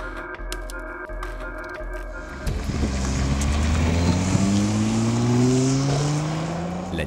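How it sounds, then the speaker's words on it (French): A 2012 Nissan GT-R supercar roars past, its engine climbing steadily in pitch through the gears, loud and sustained with a rushing, road-noise backdrop. "La Nissan GT-R est une des supercars les plus marquantes de ces dernières années."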